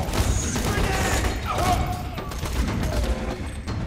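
Assault rifle burst fire in Borderlands 2 multiplayer gameplay, a dense, continuous clatter of gunfire with mechanical noise throughout, fairly loud and steady with no clear speech.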